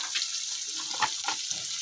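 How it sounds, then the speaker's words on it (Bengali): Chopped onions fry with partly boiled potatoes in a pan, giving a steady hiss of frying with a few soft stirring knocks, close and moderately quiet. "আলুটা একটু সেদ্ধ হয়েছে, তারপর আমি পেঁয়াজ কুচিগুলো দিয়ে দিয়েছি এর মধ্যে।"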